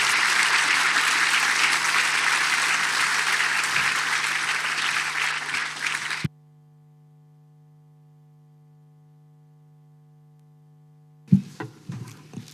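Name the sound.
audience applause for forum panelists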